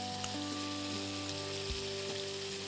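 Ingredients for a Bengali fish stew fry in a pan with ginger paste, giving a steady, even sizzle. Occasional soft clinks and a low hum sit underneath, and no one speaks.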